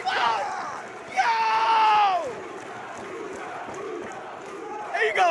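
A live lucha libre wrestling crowd roars with cheering, screaming and shouted battle cries, swelling in loud bursts at the start and middle and again near the end, with a commentator's voice mixed in.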